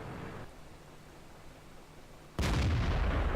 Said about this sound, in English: first shot in the FCM 50T, and unfortunately it goes a little bit high.